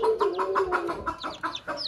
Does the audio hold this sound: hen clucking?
yes